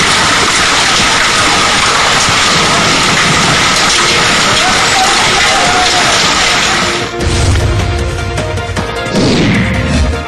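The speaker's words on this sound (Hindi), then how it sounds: "गाजियाबाद में बारिश के साथ ओले पड़ने के बाद सड़क पर भारी मात्रा में ओले बहते हुए नजर आए।" Heavy rain with hail in a street in Ghaziabad, hailstones washing along the road. A dense, loud, steady wash of noise with clattering impacts that shifts partway through, continuous throughout.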